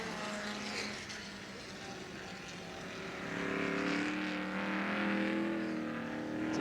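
A 1970 Ford Mustang improved production touring car races on a wet Warwick Farm circuit, its engine a steady, droning roar with hissing spray that swells louder midway, with a voice faintly underneath.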